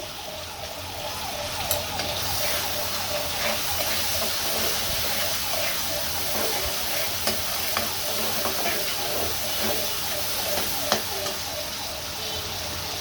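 Shrimp frying in a pan after salt is added give a continuous dense sizzle with busy crackling and hiss, punctuated by a few sharp utensil taps, no voices heard.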